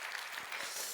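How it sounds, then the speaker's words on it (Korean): Faint applause, a soft patter of clapping hands from a church congregation during a Wednesday service, heard at a distance. "여러분 박수 한번 해주세요"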